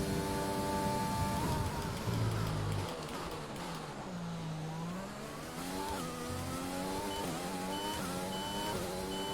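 F1 2020 race car engine whines at the race start, its pitch climbing, dipping and rising again through gear changes as the wheels spin, continuous and fairly loud with no talk.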